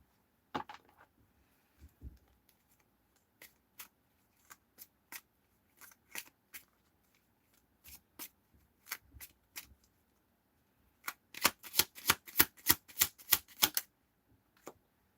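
Tarot cards being shuffled during a reading: soft, scattered riffles and taps come close and quiet at first, then build into a rapid, dense flurry of card slaps near the end, with no talking.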